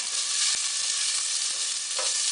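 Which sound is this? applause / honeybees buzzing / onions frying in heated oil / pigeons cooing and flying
onions frying in heated oil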